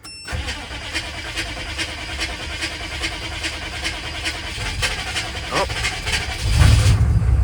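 A 6.5 Detroit diesel truck engine cranks with a fast, even rhythmic churning for several seconds, then catches and fires into a louder, rougher running rumble at the end.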